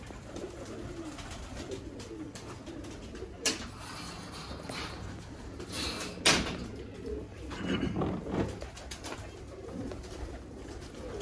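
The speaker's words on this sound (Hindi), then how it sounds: "बड़ा एजेड कबूतर है ये लें जी।" An aged Salara Teddy pigeon with failing eyes, bred in Pakistan, coos in soft, low bursts over a steady murmur of other birds, with a couple of sharper knocks standing out.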